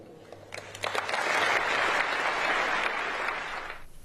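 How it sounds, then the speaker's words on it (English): An audience at a British political speech breaks into applause that swells to a full, steady roar of clapping, then fades toward the end. "I don't know why they're applauding, to be honest"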